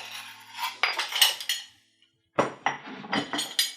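Papaya salad ingredients for Thai som tum scraped and tipped from a pestle and mortar into a bowl, with a run of clinking, scraping knocks, a short pause, then another burst of clattering taps.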